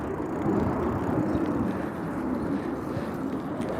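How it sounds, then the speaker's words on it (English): A jet aircraft taking off from an airport, heard as a steady, broad roar that holds evenly for several seconds with no voices over it. "a jet just flew out from the airport"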